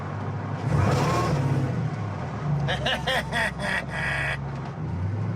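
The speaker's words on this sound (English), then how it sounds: "Listen to that. That's great, isn't it? That's, you really hear that supercharger." Supercharged 6-litre Corvette V8 in the Efijy FJ Holden concept hot rod revs loudly, rising and surging over steady road rumble, with a burst of layered whine and roar near the end.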